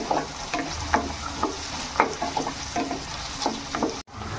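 Chilies, garlic cloves and curry leaves sizzle in hot oil in a pan while a spoon stirs them, giving a steady fry with repeated scraping strokes, close up and without talk.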